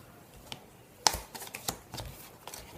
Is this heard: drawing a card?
yes